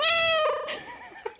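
A friendly gray tabby cat gives one loud, close meow with a long rising and falling tone, followed by quieter rustling and a small tap.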